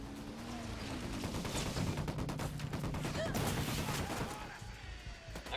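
Sustained bursts of rapid gunfire and scattered shots from a firefight in the video game Ghost Recon Wildlands, loud and continuous with heavy low rumble, voices talking over parts of it.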